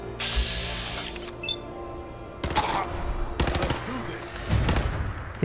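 Gunfire in Fallout 4 as a gun is fired from the hip: several short, sharp bursts of rapid shots with quieter game sounds between them.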